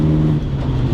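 A 36-year-old Ford Escort with a four-speed manual gearbox, its engine running loud and steady with a low, constant drone close by, no voices over it.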